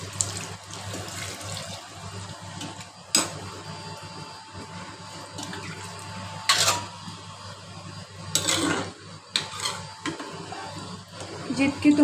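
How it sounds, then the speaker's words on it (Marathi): Water poured into a pot of dal khichdi in a home kitchen, a steady moderate trickle with short louder splashes and clatters, over a constant low hum. "आता आपण पाणी टाकून घेऊया यात।"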